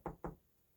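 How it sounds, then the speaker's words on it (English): Two quick, solid knocks land on a farm gate close by, followed by quiet stillness. "The wolf walked up to the farm gate and he knocked."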